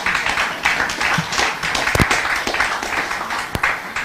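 An audience at a territorial address claps in scattered bursts, uneven and fairly close, with several louder individual claps punctuating the patter.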